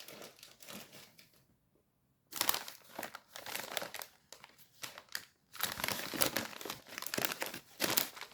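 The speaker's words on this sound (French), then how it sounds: "Il doit y avoir du papier bulle ou quelque chose là, non?" Plastic and paper packing material crinkled and torn while a parcel packed with bubble wrap is unpacked, in close, loud bursts of rustling separated by short pauses.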